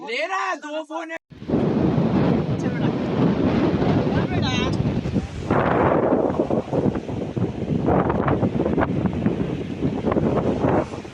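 Strong wind buffets the microphone in a continuous roar at Dugarwadi Waterfall in the jungle, with people talking intermittently underneath.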